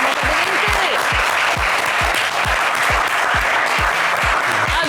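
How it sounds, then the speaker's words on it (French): A studio audience at a French television game show applauds, producing a loud, dense wash of clapping with a regular, rhythmic low thumping running through it, sustained for several seconds without talk. "on va vous applaudir très,"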